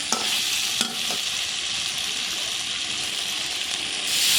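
Fish curry of bata fish with raikhanjan stalks, potato and pointed gourd sautés in a pan, giving a steady, loud, even sizzle with a few brief spoon taps near the start and no voices.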